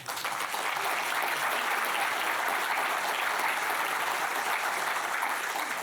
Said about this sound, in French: qu'on peut d'ores et déjà applaudir